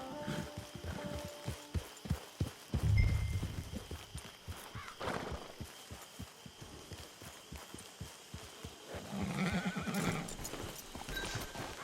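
A horse in Red Dead Redemption 2 clip-clops along at a walk with steady hoof beats, giving a few loud snorts and a whinny partway through.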